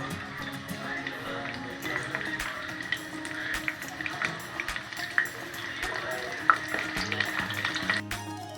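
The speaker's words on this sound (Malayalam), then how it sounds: "ഇനി നമുക്ക് ചൂടായ എണ്ണയിലേക്ക് ഇട്ട് ഫ്രൈ ചെയ്തെടുക്കാം" Double-coated peri peri chicken popcorn pieces fry in hot oil with a steady, close bubbling sizzle and occasional sharp crackles and pops throughout.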